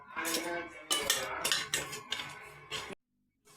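Powdered sugar ground with cardamom being mixed into semolina in a bowl for rava laddu, several bursts of close spoon scraping and clinking against the bowl, then a brief silence.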